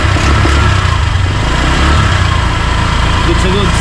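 A Honda Click 125 V5 scooter engine idling close by, a steady loud mid-pitched hum with slight pulsing throughout.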